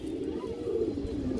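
A healthy pigeon of a rare fancy breed gives a soft, low murmuring coo, close and fairly quiet, with no talk.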